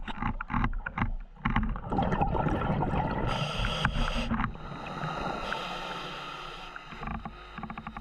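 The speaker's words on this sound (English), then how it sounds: "So what you can hear now is a load of boats that are heading into Fermain Bay" Several boats heading into Fermain Bay, heard underwater on a scuba dive: a mix of bubbling, knocking and a droning engine whine that rises and holds steady through the middle, with irregular thumps and scrapes close by.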